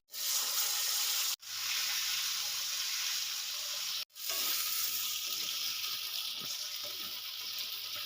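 Taro pieces hit hot oil tempered with black cumin, bay leaves and dried red chillies, a loud, steady sizzle broken by two brief sharp drops, then continuing to fry with faint stirring.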